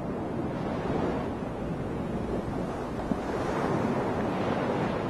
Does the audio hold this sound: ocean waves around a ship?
yes